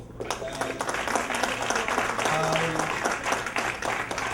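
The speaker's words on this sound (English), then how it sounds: "I guess all these kids deserve a big round of applause." A crowd applauding children who have just performed at a community get-together, a lively sustained round of clapping with some murmuring voices and a brief tonal hum underneath.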